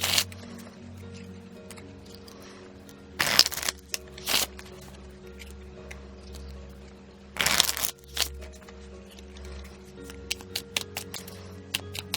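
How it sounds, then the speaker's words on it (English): Lavish Earth crystal affirmation cards are shuffled thoroughly by hand in two quick, crisp bursts of riffling, each about a second long, over a quiet background hum, with soft handling taps in between and no talk. "So I'm gonna do a little bit of thorough shuffling, and then we'll draw a card."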